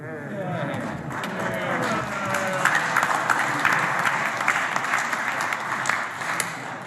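Loud applause fills a parliamentary chamber as a member walks out, steady and sustained throughout, with scattered voices and some indistinct talk mixed into the crowd noise.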